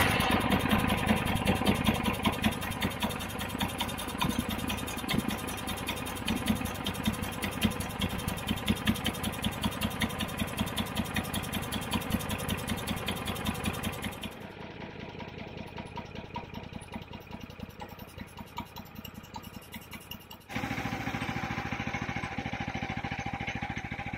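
A petrol engine on a garden wood chipper runs steadily at a close, even rumble, then settles to a lower idle before picking up again, with no voices over it.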